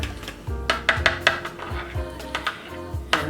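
Melted butter being mixed into a chocolate quick bread batter in a bowl, with a spoon or whisk knocking and scraping against the bowl in irregular close strokes.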